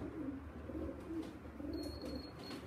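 A racing pigeon held in the hands gives low, soft grunting coos in a few repeated pulses, close and quiet against faint room noise.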